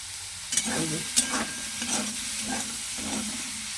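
Soya chunks fry in a pan with a steady sizzle while a spoon stirs them in regular scraping strokes, five or six in a row, close and clear with no talking.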